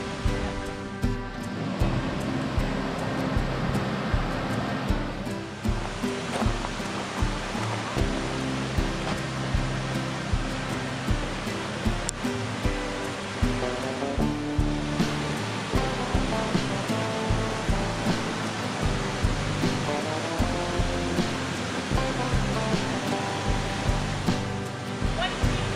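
Falling water at Screw Auger Falls rushes in a constant broad roar close by, at low water level, with people talking faintly under it.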